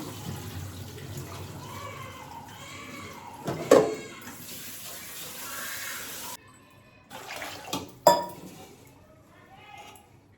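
Ration rice is washed in water in a pot, with sloshing and swirling water, a couple of sharp clinks of grains and vessel, and quieter pauses between rinses.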